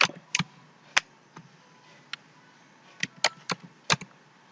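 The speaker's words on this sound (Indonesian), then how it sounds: "Misalkan yang kita akan ketikkan kata kuncinya Word." Sparse clicks of a computer keyboard as a search keyword is typed, about a dozen separate keystrokes in irregular bursts, close and fairly quiet with no talking.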